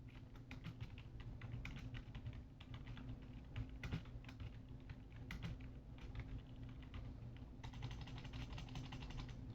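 Steady rapid clatter of computer keyboard typing runs throughout, close and clear, with bursts and short pauses and a denser flurry of keystrokes toward the end; no one speaks.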